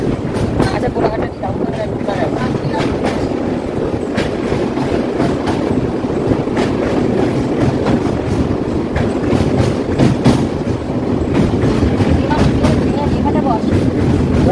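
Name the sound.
train running on rails, heard from inside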